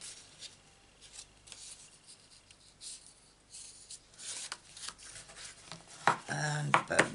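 Stamped cardstock being folded along a score line and pressed, soft rubbing and scraping strokes close to the mic that grow louder and busier toward the end, with no talking.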